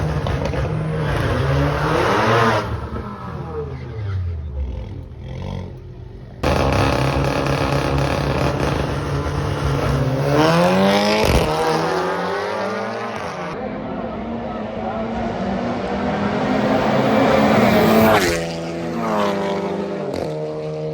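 Drag racing cars, including a Honda CRX and an Audi S3, roar loudly past with throttle bodies howling, engine notes rising and falling through repeated runs, with voices talking over the din.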